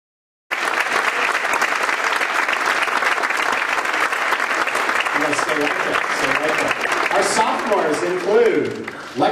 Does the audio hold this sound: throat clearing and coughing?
no